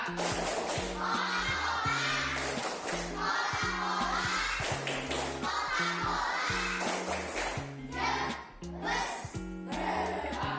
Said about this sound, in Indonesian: sekali lagi tepuk Coca-Cola